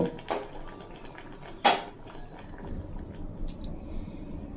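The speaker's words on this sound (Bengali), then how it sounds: "এঁচড় খুব ভালোভাবে সিদ্ধ হয়ে গেছে এরপর ছেঁকে নেব" Boiled jackfruit is strained from a metal pot in a kitchen: a sharp clank of metal cookware stands out, followed by soft wet sloshing and faint scraping in the background.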